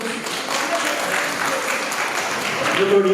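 A hall audience at a felicitation ceremony keeps up steady, enthusiastic applause, a continuous wash of claps with a voice speaking over it.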